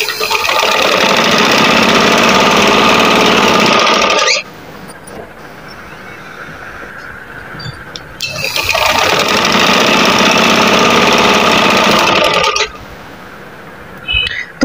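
A sewing machine stitches a side slit with fashion trim, running loud and close with a dense whirring rattle in two long bursts, separated by a quieter pause with faint handling noises.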